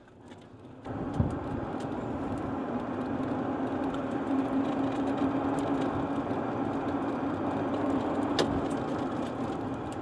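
A golf cart running on a lithium battery drives down a road, a low steady motor hum and road rumble starting abruptly after a moment of quiet and holding even throughout, no talking.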